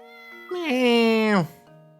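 A single drawn-out cat meow in Professor Layton and the Curious Village, loud and close, rising then falling, over soft game music.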